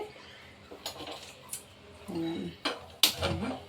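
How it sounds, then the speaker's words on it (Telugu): A metal cooking pot set onto a gas stove before making okra stew: several sharp clanks and taps spread out over a few seconds, fairly close, with a faint voice in between. "ఇదిగోండి గిన్నె పెడుతున్నానండి బెండకాయ పులుసు చేయడానికి"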